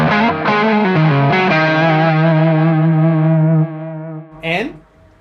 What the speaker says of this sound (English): So if I were to go to the next scene right here, it's basically with a little overdrive.